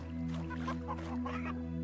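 Hens cluck softly in a coop, a few low murmuring clucks close by over a steady droning hum, with no talking.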